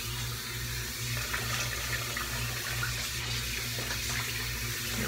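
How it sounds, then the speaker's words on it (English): A tap runs steadily at a bathroom sink to rinse a Schick A-4 repeater safety razor, giving a constant close hiss and splash that holds unbroken from start to finish, with no speech. "Anyways, I'll go ahead and rinse."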